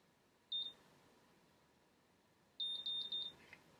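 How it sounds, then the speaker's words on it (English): Two high, thin electronic beeps from a Babyliss automatic hair curler, then a quick run of several more beeps a couple of seconds later, in quiet surroundings. "So that double beep tells you to remove the curl"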